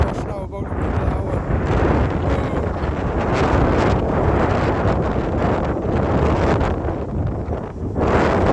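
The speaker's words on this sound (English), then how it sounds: "There it goes, there's that backwash now" A stormy sea on the Welsh coast at Ogmore and Southerndown roars with crashing waves and backwash, while strong wind buffets the microphone steadily and loudly throughout.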